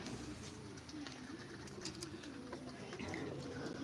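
Soft pigeon cooing, low and repeated, sits under a constant hiss of ambient noise; fairly faint and distant.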